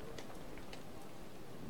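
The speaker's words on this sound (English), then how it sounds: "The rain has lessened" Light rain falls steadily at an outdoor minor-league baseball game between the York Revolution and Southern Maryland Blue Crabs, a constant soft hiss with faint voices underneath.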